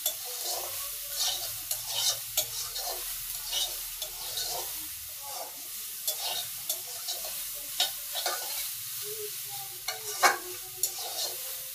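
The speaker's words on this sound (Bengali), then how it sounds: "সয়াবিনটি ভাজে নিয়েছি, এখন তুলে নিব।" Soybean chunks seasoned with salt and turmeric fry in a pan, a steady soft sizzle broken by repeated scraping stirs and light clinks of the utensil, close and moderately quiet with no talking.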